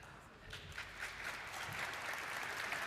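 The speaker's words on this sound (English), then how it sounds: "Let's give them a round of applause." An audience at the Namibia International Energy Conference 2024 applauds its sponsors with a faint, fairly thin round of clapping that gradually builds and grows denser toward the end.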